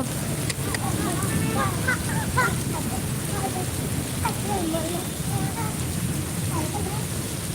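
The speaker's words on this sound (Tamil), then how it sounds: "இப்போ வந்து மழை மழை மழை" Steady rain patters all around while a high-pitched voice chatters and exclaims over the downpour.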